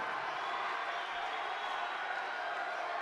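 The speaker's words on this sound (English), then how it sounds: "Listen to the crowd." Gym crowd at a high school basketball game, Wichita Northwest against Kapaun Mt. Carmel, roaring after a Grizzlies win, a constant wash of cheering and yelling heard from a distance at moderate level, with no distinct claps standing out.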